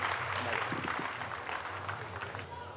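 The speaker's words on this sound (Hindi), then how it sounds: "जोरदार तालियों से इस्तकबाल करेंगे इला जोशी साहब" Audience at a Jashn-e-Rekhta poetry event applauds to welcome poet Ila Joshi, with steady, dense clapping filling the hall throughout and some voices mixed in.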